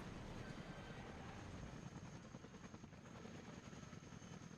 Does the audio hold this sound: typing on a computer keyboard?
no